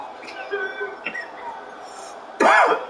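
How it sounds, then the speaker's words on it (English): An allergy cough from a sports broadcaster, a single short, sharp cough near the end, following a stretch of quiet room tone and faint murmuring. "Got my allergy cough back."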